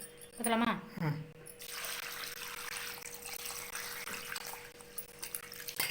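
Water splashes and swishes as rice is rinsed in a container, a few sloshing bursts followed by a steady running pour, with faint talk early on.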